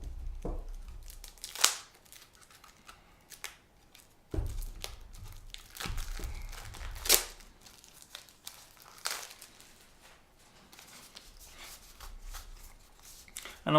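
A shrink-wrapped card pack from the Necromunda Underhive board game being opened, irregular crinkling and tearing of plastic with a few sharper rips and quiet pauses between them.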